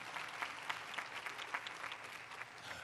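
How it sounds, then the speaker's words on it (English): An audience applauds at the 2019 Pitzer College commencement, heard as steady, sustained clapping from a large crowd, fairly distant and soft, with no one speaking over it. "we can applaud for that."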